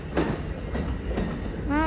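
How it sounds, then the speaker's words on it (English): Amtrak Silver Meteor passenger train number 98, bound for New York, rolls past in Savannah, Georgia, with rumbling wheels and a few rhythmic clacks over a brief moment, ending with a voice. "Amtrak Silver Meter number 98 to New York."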